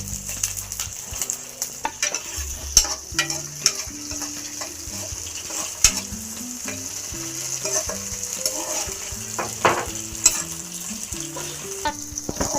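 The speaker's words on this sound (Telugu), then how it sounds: "పచ్చిమిరపకాయలు అయితే వేగిపోయాయండి" Green chillies fry in a pan for coconut chutney, a close, steady sizzle with crackling pops and occasional scraping stirs throughout.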